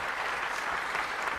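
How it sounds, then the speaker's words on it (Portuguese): A steady round of audience applause, dense and even clapping from a crowd throughout the short stretch with no talk over it. "Palmas para o Igor e para a Tuxa."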